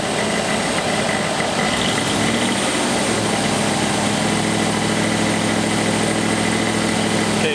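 A Ford engine with EEC-IV ignition running steadily at raised RPM, a loud continuous close-up drone after a brief rise in revs.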